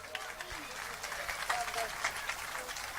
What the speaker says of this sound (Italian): pregandovi di continuare questo applauso per la nostra orchestra